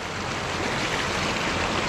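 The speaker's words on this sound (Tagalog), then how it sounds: "Yun, yun na yung tubig." Water of a small stream flows steadily at a gold-panning spot, a continuous close rushing and burbling with no voices.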